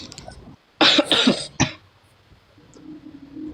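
Two or three close, harsh coughs in quick succession, then quieter low murmuring background noise.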